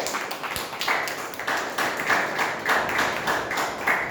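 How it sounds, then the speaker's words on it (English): A small audience at a Toastmasters club meeting claps to welcome a new member, a light, steady patter of hands that holds for a few seconds with soft rhythmic peaks. "Please can we have a round of applause, please?"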